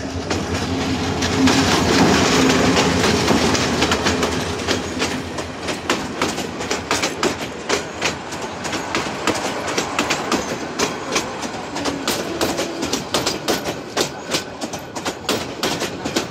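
A train running on rails near Dhaka Kamalapur, a loud continuous rumble with rhythmic clickety-clack wheel beats growing sharper and more regular, heard close without talk.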